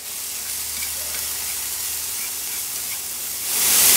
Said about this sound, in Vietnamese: Khi mình thấy hành tỏi có mùi thơm thì mình sẽ cho củ sắn và củ cà rốt vào mình xào nè.